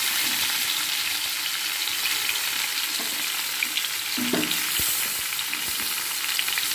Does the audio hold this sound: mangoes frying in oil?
yes